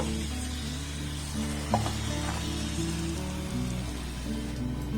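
Flour and potato snacks frying in oil, a soft continuous sizzle beneath a steady low hum, fairly quiet and even throughout.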